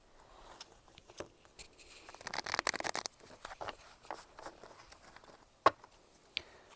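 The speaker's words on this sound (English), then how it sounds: "2 more shuffles here for the Tauruses." Tarot cards are shuffled by hand, soft riffling and brushing strokes in quick irregular bursts, quiet and close, with a few sharper taps.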